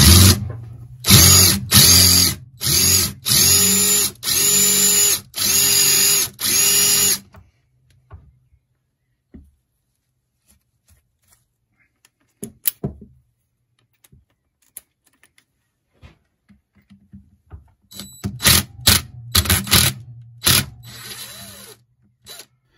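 A Trend GRABIT PRO screw and bolt remover spins on a drill in a series of loud, short bursts, then after a long near-silent stretch a few more brief drill runs and clicks follow.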